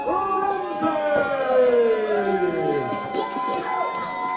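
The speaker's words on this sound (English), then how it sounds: "Let's give a big round of applause making her Eclipse debut" Crowd at a PWE ladies wrestling show in Oshawa cheers and applauds as the wrestler Tootie Lynn Ramsey makes her entrance, a steady loud roar with shouts and whistles running throughout.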